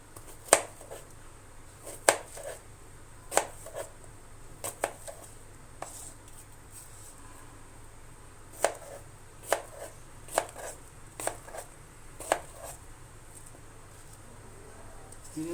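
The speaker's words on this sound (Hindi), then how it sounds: "जो इसके भी हम क्यूब्स की शक्ल में इसको काट लेंगे।" A knife chops an apple into cubes on a board for fruit custard: a dozen or so crisp, sharp taps at an uneven pace, close and clear over a quiet room.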